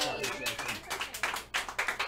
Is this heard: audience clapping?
yes